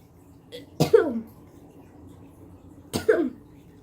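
A person coughs and gags, trying to clear a large ball of phlegm: two harsh, close bursts about two seconds apart, with near-silence between them.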